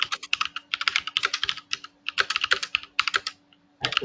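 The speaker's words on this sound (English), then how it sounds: "was typing an email" Someone typing an email on a computer keyboard: rapid bursts of light, clicking keystrokes in uneven clusters with short pauses, close and distinct over a faint steady hum, with no talk.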